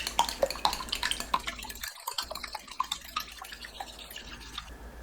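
Beaten eggs strain through a sieve, dripping and trickling close by in irregular patters. A brief silent gap comes around the middle, then the dripping softens.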